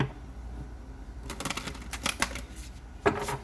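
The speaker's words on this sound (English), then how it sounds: "One more shuffle." A quick series of crisp papery riffles and snaps as a deck of tarot cards is shuffled close by, ending with a sharper flick.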